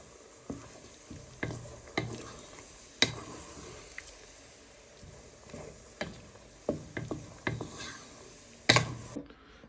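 Nigerian meat pie filling is stirred in a pot as it simmers, with a soft sizzle underneath and a series of irregular scraping knocks from the spoon against the pot, close and fairly quiet with no talking.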